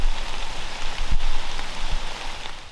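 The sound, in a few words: heavy rain pouring down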